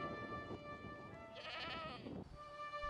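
A flock of sheep bleats in a dry, water-scarce rural setting, one clear bleat rising midway over a faint, steady outdoor background with no talking.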